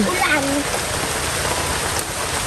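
Rain falls steadily over a fern-gathering spot in the Philippines, a dense, even hiss that fills the whole moment, with a brief voice heard faintly at the start.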